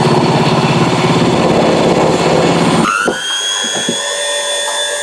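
An electric mixer beats marshmallow mixture at high speed, a loud, close, steady motor whir that cuts off about halfway, leaving a fading whine as it spins down.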